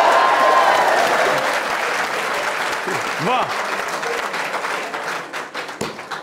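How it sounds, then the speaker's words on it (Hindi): Audience clapping in a Pakistani television election debate studio, a burst of applause that fades as someone speaks over it. "तालियां बजाइए।"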